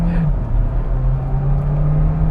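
A 2022 Hyundai Tucson Hybrid launches hard in sport mode, its engine holding a steady, loud drone with a rising pitch, close to the listener over a continuous low rumble of road noise.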